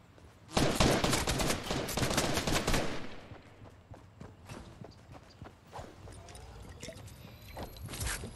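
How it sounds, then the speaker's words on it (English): Loud rapid bursts of automatic gunfire in an online shooter video game, strongest at the start, then thinning into scattered shots and footstep-like clatter. "I'm shooting right on the dude"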